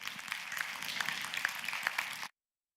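A gene-editing scientific symposium audience claps to welcome a speaker, a steady, moderately loud patter of many hands lasting about two seconds before cutting off abruptly.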